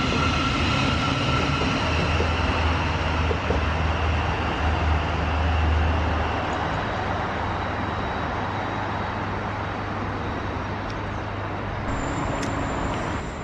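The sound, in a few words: train at London Bridge station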